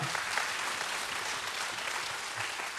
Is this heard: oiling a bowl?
no